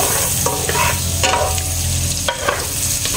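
Onions dropped into hot oil in a pan for adobo, a loud, dense, close sizzle and crackle that holds steady with a few stirring scrapes throughout, no voices.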